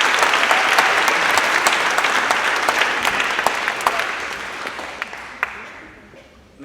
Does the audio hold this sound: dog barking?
no